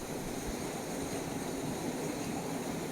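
Water rushes steadily beneath a watermill, producing a continuous broadband wash that is fairly soft and unchanging, with no voices over it.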